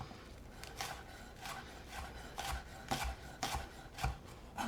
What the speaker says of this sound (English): cutting the green onions